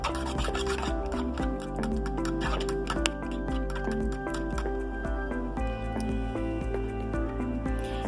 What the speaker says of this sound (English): Now it's time to whisk all of this together.